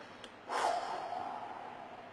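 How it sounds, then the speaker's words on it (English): A single whooshing exhalation pushed out through pursed lips during a pursed-lip breathing exercise, starting after a short pause and trailing off slowly, close and fairly soft. "exhalation is more efficient if you do it through mouth, if you do sort of a whooshing sound"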